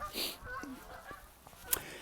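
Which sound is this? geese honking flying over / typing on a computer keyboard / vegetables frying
geese honking flying over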